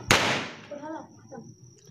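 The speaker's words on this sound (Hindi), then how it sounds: "ये पटाखे छुटा रहे हैं।" A single sharp firecracker bang during a Gyaras festival celebration, loud and close, followed by a fading crackle and a faint whistling tone as voices sound briefly in the background.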